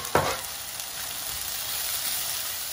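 Mashed potato and stuffing fry steadily in a pan, giving an even, close hiss with a brief stirring scrape near the start and no voices.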